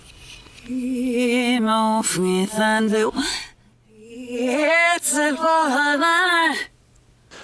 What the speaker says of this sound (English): And here it is reversed, and it sounds like this.